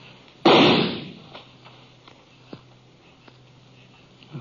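A single sharp gunshot rings out in a canyon in an old radio western, followed by a fading echo and a few faint clicks in the quiet afterward.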